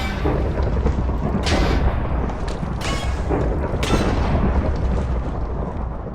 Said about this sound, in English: you got struck by lightning.